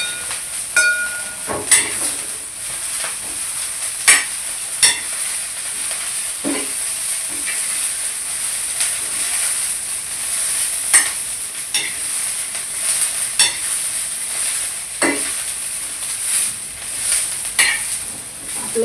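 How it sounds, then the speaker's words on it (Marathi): Guar beans fry in oil while being stirred, a steady high sizzle running throughout with scattered scraping taps of a spoon against the pan, close and fairly loud, no voices. "भोवतीने तेल सोडायचं आणि एकसारखं हलवत राहिलं की सगळी गवारी आपली"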